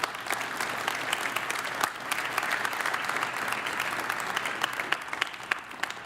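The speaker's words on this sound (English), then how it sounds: "Let's give those guys a round of applause." Audience at a CES 2013 press conference applauding, a dense, steady clapping from a large crowd lasting about six seconds at moderate volume.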